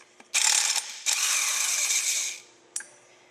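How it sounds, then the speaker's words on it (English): Ratchet wrench removing a 3/4 inch nut from a 1 HP Briggs engine: rapid, close clicking in two sustained bursts, then a single short click after a pause. "I'm going to remove this nut out of here"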